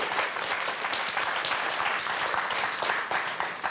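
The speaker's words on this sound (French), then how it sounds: "On vous applaudit, Apolline." Studio audience on a French TV word game show breaks into brisk, dense applause, a steady wash of clapping close by that holds for a few seconds.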